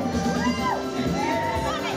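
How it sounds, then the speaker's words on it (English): Wedding guests at a reception let out a lively cheer together after the cake is cut, a loud mix of high voices and shouts that holds up for the whole two seconds. "Let's have 3 cheers after this cake cut."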